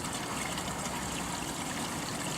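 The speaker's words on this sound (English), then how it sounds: "turn our valve back on, just get ourselves some water in on top of the mat" Water from a reopened valve flowing onto the mat of a Keene KSCR gold concentrator, a steady, even hiss and trickle with no breaks.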